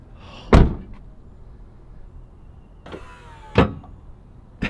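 Doors of a 2021 RAM 2500 pickup truck shutting, two solid slams a few seconds apart with a faint mechanical whir between them, close and otherwise quiet.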